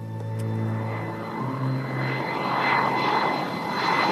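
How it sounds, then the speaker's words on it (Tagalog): A fixed-wing airplane on its takeoff run: a steady engine drone with low tonal hum that thickens into a broad, rising roar as the plane speeds up, loud and close with no talking. "nung umandar na tong eroplano, tapos pabilis na ng pabilis ang takbo, tapos biglang umangat ng pataas ng pataas"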